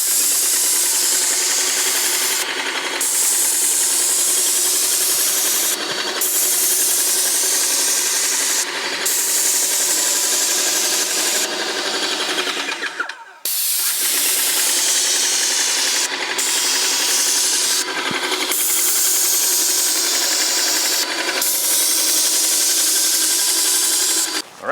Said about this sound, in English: let's do this patch of the wall right here and just get a sense for the sound of the unit